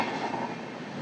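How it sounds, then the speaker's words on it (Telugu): Samata Super Fast Express, the 12807 Visakhapatnam service, runs on rails after leaving Parvatipuram, giving a steady, dense rumble of wheels and carriage noise that stays close and even without a break. "పార్వతీపురం నుంచి మన ట్రైన్ అయితే స్టార్ట్ అయిపోయింది"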